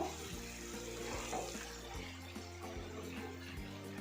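Thick coconut milk pours into a Kerala-style prawn roast in the pan, making a faint, steady, continuous liquid stream with no talk.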